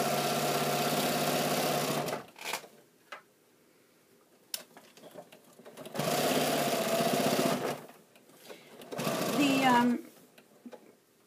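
A sewing machine fitted with a walking foot stitches through layered fabric in three steady bursts of running motor hum, separated by pauses with light handling clicks.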